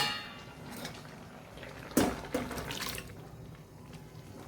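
Water is poured into a pressure cooker for a Mattu Gulla Bolu Huli, making soft, faint splashing and trickling in short bursts with a slight clink of metal, close and quiet, with no talking.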